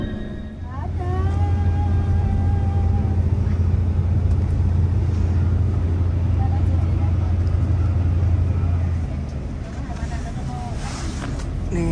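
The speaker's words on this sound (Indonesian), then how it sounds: "Ini kita abadiin dulu momen-momen bisnya mau berangkat dari Terminal Madurso Temanggung" Bus idling and pulling out of Madurso bus terminal in Temanggung, a steady low engine rumble with background chatter and people talking nearby, the drone easing off near the end.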